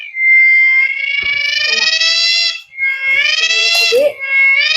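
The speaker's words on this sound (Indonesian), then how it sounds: "Kayaknya tonggeret lah. Tapi suaranya gede banget." A loud cicada in a Kalimantan forest beside a rubber plantation gives a shrill, buzzing, pitch-wavering drone, very close and intense, sounding in two long bursts separated by a short pause.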